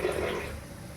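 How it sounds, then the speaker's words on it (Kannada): Water poured into a pot of sambar with field bean (avarekalu) on the stove: a steady splashing pour, loudest at first and gradually softening, with no talk over it. "ನೀರನ್ನ ಹಾಕ್ಕೊಳ್ಳೋಣ."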